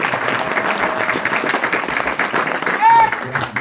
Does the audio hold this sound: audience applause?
yes